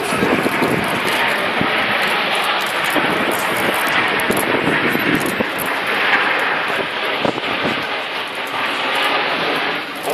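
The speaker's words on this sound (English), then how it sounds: "As the jets go upside down, boys and girls, the pilots will see you waving." Red Arrows BAE Hawk jets performing a flying display at the Farnborough Airshow 2014, heard as a loud, continuous broadband jet roar that swells and fades slightly throughout, with no talk over it.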